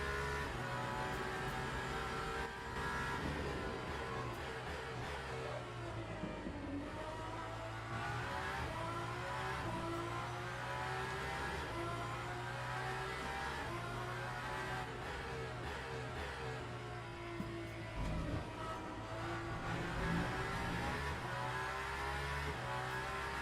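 Aston Martin Valkyrie hypercar in Le Mans Ultimate at Monza, its high-revving engine screaming continuously, pitch rising through gears and dipping on shifts, loud and close throughout with no talk.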